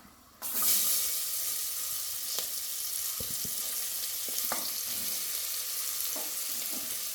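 Sliced onions hit hot oil for biryani and set off a sudden loud sizzle. The frying hiss then holds steady and close, with occasional small clicks and taps of stirring.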